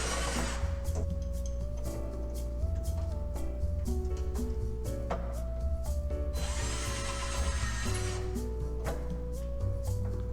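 Power drill driving screws into a wooden bench while fitting a coat hanger, a continuous whirring motor whose pitch steps up and down as each screw is driven, with clicks and knocks from the wood, close and steady.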